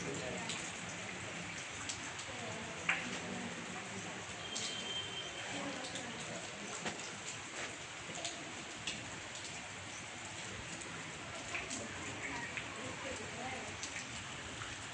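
Heavy rain pours over a school ground during exams, a dense, steady hiss with scattered drips and patters, even and close throughout.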